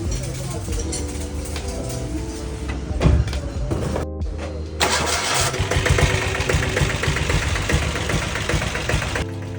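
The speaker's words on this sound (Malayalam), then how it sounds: "ഇനി ഡീസൽ ബുള്ളറ്റിൽ സെൽഫ് മോട്ടോർ കയറ്റാനുണ്ടെങ്കിൽ നമ്മുടെ ഹരിയേട്ടനുണ്ട്." A diesel Royal Enfield Bullet motorcycle fitted with an electric self-starter cranks briefly, then catches and settles into a loud, close, knocking diesel beat that keeps running to the end.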